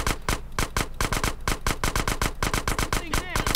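Rapid automatic gunfire in GTA San Andreas, a dense run of loud evenly spaced shots filling the whole stretch with barely a pause.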